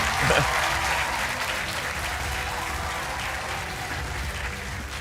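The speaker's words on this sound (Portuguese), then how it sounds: "Um aplauso para o António Antunes, de camisola azul" A television game-show studio audience applauds a contestant, a broad, even wash of clapping that swells briefly at the start and then holds steady at moderate loudness.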